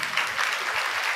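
An audience claps steadily at a live Sunday gathering, a brief, dense burst of many hands that holds at an even level throughout with no talk over it.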